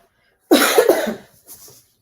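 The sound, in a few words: person coughing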